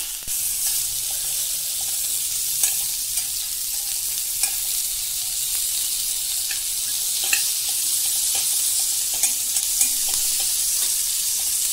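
Thickly sliced bitter gourd with a little salt fries lightly in a pan, giving a steady soft sizzle broken by occasional faint clicks from stirring.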